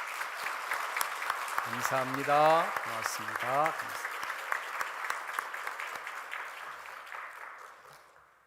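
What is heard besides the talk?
congregation applauding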